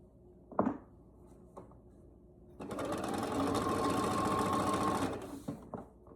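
A sewing machine stitching nine patch quilt pieces, its bobbin running a little low: a steady, close mechanical whirr of rapid stitches lasting a few seconds, with a few clicks and handling knocks before and after.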